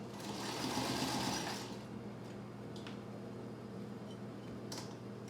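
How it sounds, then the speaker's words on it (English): A sewing machine runs steadily while back stitching the end of a fabric face mask, with a loud burst of whirring that slows and quiets, followed by a few faint clicks of fabric handling. "At the end I'm going to slow down and back stitch."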